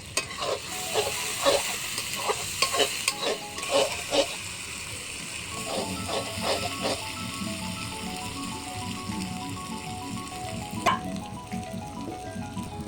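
Broiler chicken sizzles and fries in a pan while a utensil scrapes and stirs it in repeated strokes, close and moderately loud, with faint clinks and no talking.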